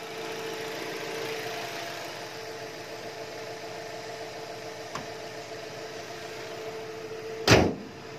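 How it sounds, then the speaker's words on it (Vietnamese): A 2018 Chevrolet Cruze LTZ engine idles with a smooth, quiet, even hum throughout, broken by a faint tick midway and a brief sharp thump near the end. "máy nổ rất là êm"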